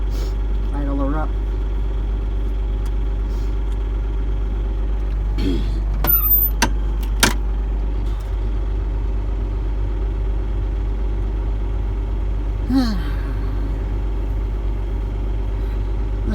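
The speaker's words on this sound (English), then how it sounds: "we'll let her warm up here a minute, and then we'll idle her up" A John Deere 8770 tractor engine idles while warming up on a snowy day, a steady low diesel drone throughout with occasional brief squeaks and clicks from the cab, and a person speaking at moments.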